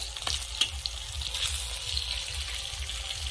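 Bata fish frying crisp in oil over a medium gas flame, a steady close sizzle and crackle with a few sharper spatters, no voices.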